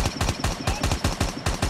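Rapid gunfire from the K-117 rifle in Call of Duty Mobile, fired in tight three-shot bursts: a quick, evenly spaced string of sharp cracks repeating steadily and loudly with no voices over it.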